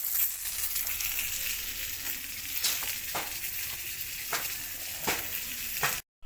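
Fish from a well frying in a pan, a constant crackling sizzle with several sharp spatters and stirring scrapes, close and unbroken until it cuts off at the end.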